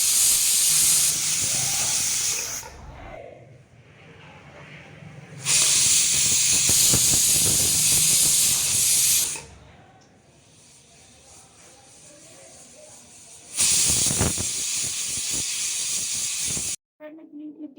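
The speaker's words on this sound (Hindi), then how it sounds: "सीटी आ गई है, अब इसको हम उतार लेते हैं।" A pressure cooker whistle, cooking carrots for halwa, lets out steam in three loud, sustained hissing bursts, each several seconds long, separated by quieter stretches of low background noise.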